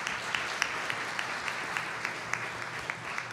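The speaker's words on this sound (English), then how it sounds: "I want a hand of applause for all the volunteers here." An audience applauds volunteers at a youth program presentation, a fairly quiet, steady patter of clapping with sharper individual claps standing out, no speech.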